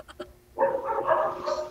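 A dog barks twice in quick short yips, then louder mixed noise with people chattering nearby.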